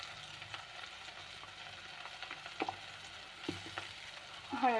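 A pan of poha with tomato gives a soft, steady sizzle as turmeric is added, quiet and continuous with a few light clinks and scrapes of a spoon, and no one speaking.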